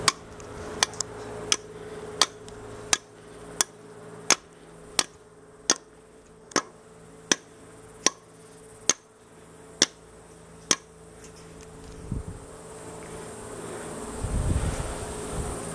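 A tactical tomahawk strikes the corner of a cinder block in a row of sharp, evenly spaced clacks, about one every seventh of a second, fairly close and crisp over a quiet background. The blows stop near the end, leaving a brief low rumble.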